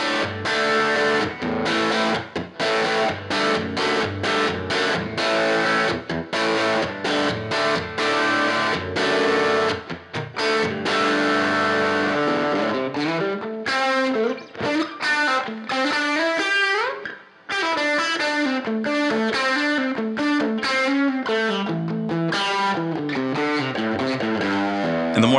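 Electric guitar played through an Overdrive Special amp modeler with gain and overdrive raised, loud, distorted rock chords and riffs ringing continuously for about 25 seconds, with a brief break near the middle and no voices.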